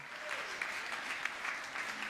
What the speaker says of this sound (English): Thank you for giving them a big round of applause.